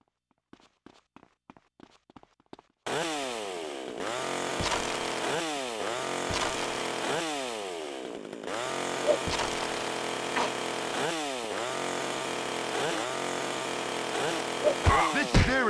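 A chainsaw in GTA Vice City Stories, following a series of sharp footstep-like taps, starts loudly and keeps running with repeated revving rises and falls, sounding close and dominant throughout.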